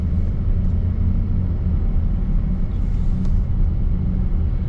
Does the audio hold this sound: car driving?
yes